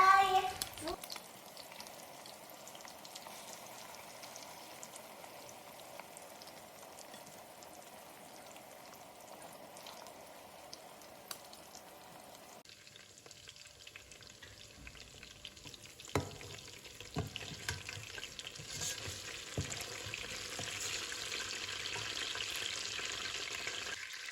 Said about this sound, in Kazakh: қайнап тұрған ыстық майға салып, бірер минут қызарғанша қуырып аламыз.